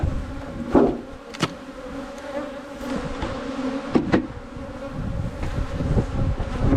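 Honeybees buzzing around hive colonies set on rapeseed, a steady close insect hum with occasional louder passes near the microphone.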